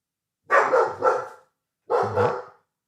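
A pet dog barks indoors at home in two loud, close bursts, the first with three quick barks and the second with two, separated by silence.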